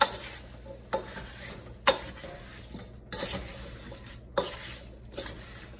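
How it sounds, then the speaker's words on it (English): Apple pieces being stirred into a butter and sugar mixture for an apple pie filling: a soft background sizzle is punctuated by about six sharp, regular scrapes and clacks of the spoon, roughly one per second. "We'll give those a nice little stir, and they're going to get coated in our butter and sugar mixture."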